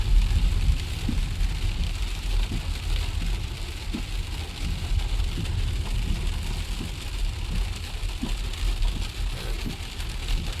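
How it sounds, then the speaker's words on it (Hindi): Heavy monsoon rain pours steadily near Kasol to Mandi in the Himalayas, a dense unbroken hiss and patter with a low rumble underneath, no voices. "भाई कंटिन्यूसली बारिश हो रही है बहुत तेज।"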